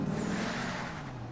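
Ambient car engine sound effect plays during a tabletop game session, a steady low idling hum with no voices.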